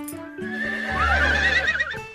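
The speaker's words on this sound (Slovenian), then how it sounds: "Naši konji so danes res glasni." Horses in a stable neigh and whinny loudly, several high, wavering calls overlapping with a low snort and faint hoof clops beneath, close by and with no talk.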